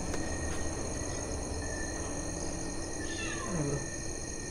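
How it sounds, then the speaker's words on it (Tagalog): A cat meows once near the end, a short falling cry at moderate distance, over steady insect-like hum and background noise inside an abandoned COVID facility at night. "Para sumusunod yung pusa."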